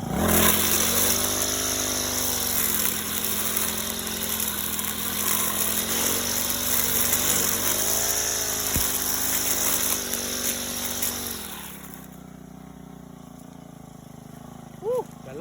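A Honda GX35 grass cutter engine running in a backyard, a loud, close, steady buzzing drone with slight pitch swings as the throttle shifts. It cuts out near the end, leaving quieter background with a brief faint squeak.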